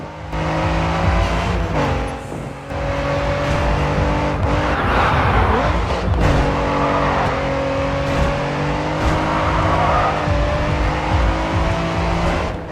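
A race car in the video game GRID 2 skids and slides with sustained engine drone, revving and tire squeal, loud and continuous throughout with no talking.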